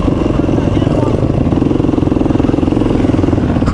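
Several motorcycles from a touring group after a rally ride together, their engines a steady loud mid-range rumble with rhythmic pulsing throughout, close by and continuous with no break.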